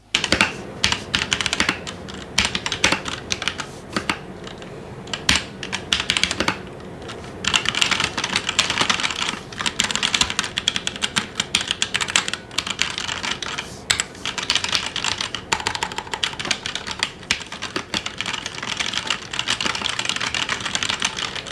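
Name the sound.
typing on CK721 mechanical keyboard with ABS keycaps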